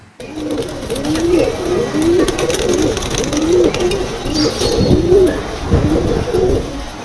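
Pigeons on a Bangladeshi pigeon farm coo repeatedly in low, throaty, rolling calls, several birds overlapping in a steady chorus with faint background noise.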